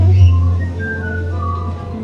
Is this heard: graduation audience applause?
no